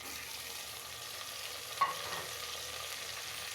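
Onions fry in a pan while a spoon stirs them, giving a soft, steady sizzle with faint scraping and one brief clink near the middle, all fairly quiet and without talk.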